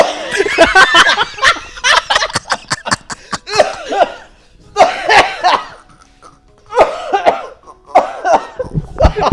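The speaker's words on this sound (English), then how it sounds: "He's gonna start coughing." Repeated bursts of coughing mixed with snickering laughter, several people nearby, loud and uneven with short pauses between fits.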